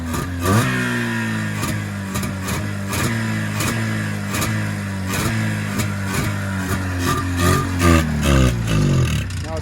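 A carbureted two-stroke engine on an old barn-find Arctic Cat Jag 3000 snowmobile, revved repeatedly by hand throttle in a rising and falling rhythm, loud and close, with brief talk between revs.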